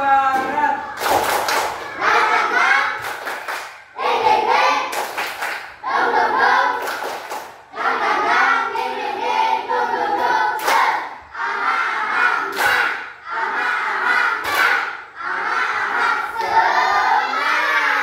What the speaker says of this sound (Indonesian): Oke, kita tepuk semangat ya.